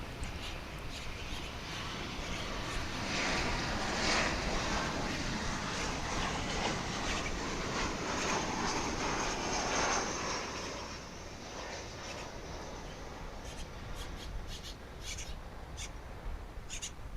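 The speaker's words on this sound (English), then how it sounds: "That was Flight 501 Sun Country coming in from Minneapolis, St. Paul," A Sun Country Boeing 737-800 on Flight 501 from Minneapolis–St. Paul arrives at DFW International Airport, a steady broad jet roar building then easing away, with faint bird chirps in the open-air background.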